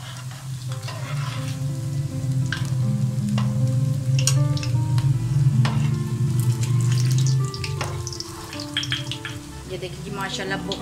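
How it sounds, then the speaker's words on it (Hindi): Potato bites frying in a pan of hot oil, a steady loud sizzle with crackling pops throughout, easing slightly toward the end as the heat is lowered. "आंच को आपने हल्का कर देना है ताकि अंदर तक ये अच्छे तरीके से फ्राई हो जाएं"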